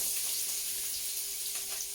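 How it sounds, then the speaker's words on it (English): Diced sweet potato and onion sizzle in a hot pan with meat juices from stir-fried duck and pork, a steady close frying hiss with no voices. "we can just let that sizzle away together"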